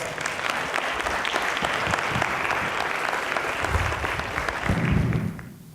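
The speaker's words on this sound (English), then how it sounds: "Let's give him a round of applause." Steady, dense applause from a crowd, loud and sustained for several seconds before tapering off at the end.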